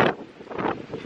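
Strong, cold wind gusting in the small coastal town of Karlobag, Croatia, buffeting the microphone with a roaring rush that surges and eases over a second, with no voices.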